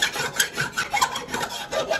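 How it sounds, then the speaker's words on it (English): Metal burrs left by a drill bit are filed off a high carbon steel knife blade, giving a close, rhythmic rasping of repeated strokes with no speech. "What I'm doing right now is filing off the burrs that come out of the end of the drill bit"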